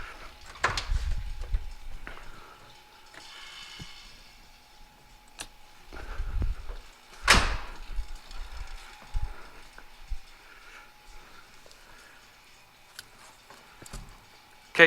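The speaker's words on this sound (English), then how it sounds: "let me pull the vacuum override switch for the headlight doors" Pop-up headlight doors on a C3 Corvette swinging via the vacuum override switch, heard as a few soft clunks and thumps with brief mechanical knocks, close and fairly quiet against a hushed background.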